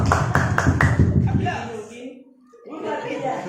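A group of teachers and school staff at a training session clap hands in several sharp rhythmic beats, loud and close, then the clapping fades into murmuring voices and laughter.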